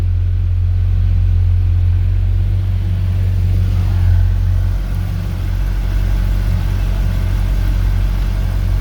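A 2010 Mercedes E63 with 173k km runs steadily after its first start, a loud, deep, continuous engine rumble that holds near idle with a slight dip midway, heard close and alone without talk.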